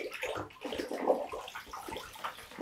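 Water splashing and dripping as fishing line is wound onto a reel at the waterside, a steady close-up wet patter with no talk.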